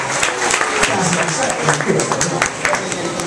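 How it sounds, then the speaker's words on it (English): An audience claps and applauds throughout, a dense patter of hands with voices talking over it. "Please give them a big round of applause, everybody."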